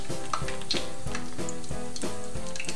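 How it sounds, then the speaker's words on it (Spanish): Zucchini rolls fry in plenty of hot oil in a pan, giving a steady close sizzle with some faint tonal background throughout. "Ahora ponemos una sartén al fuego con abundante aceite y comenzamos a freír."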